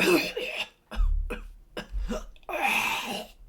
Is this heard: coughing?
yes